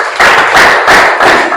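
Audience hand clapping in a loud, close burst of rhythmic claps in regular pulses, with no talk over it.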